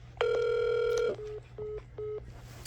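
A telephone plays a failed-call signal: one long steady electronic tone followed by three short evenly spaced beeps, clear and alone with a faint hum underneath.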